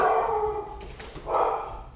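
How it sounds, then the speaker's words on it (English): Dogs bark and howl in a short, loud outburst nearby, two clustered barking bursts within a couple of seconds with a whining, howl-like tone. "and our dogs are kind of going crazy."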